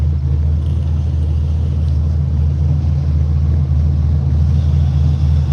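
A truck engine idles steadily after a 17-degree cold start, a loud, constant low rumble with no variation and no voices over it.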